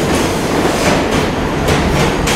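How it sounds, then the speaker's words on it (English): A Manhattan-bound R subway train rushes past, a loud, continuous rumbling roar with rhythmic wheel clatter filling the station. "Manhattan-bound R train right here."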